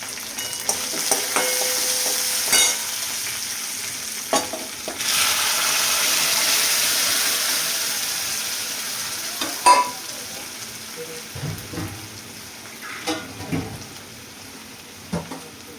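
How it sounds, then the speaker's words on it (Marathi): Cooked lentils pour into a hot pan of tempering and sizzle, a steady hiss with occasional clinks and stirring scrapes, close by, with no talking. "आणि आता आपल्याला टाकायचं आहे वरण."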